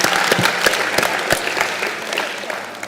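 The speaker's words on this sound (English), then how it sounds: "Give our role players a round of applause" An audience at a Bethany College performing arts event applauds the role players: a short burst of loud, crowded clapping with sharp individual claps standing out.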